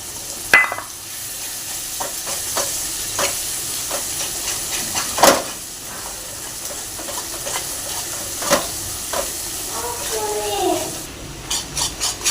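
Cream being beaten into hot fried masala in a pan for shahi paneer: a steady sizzling hiss runs throughout, broken by occasional sharp spoon knocks against the pan.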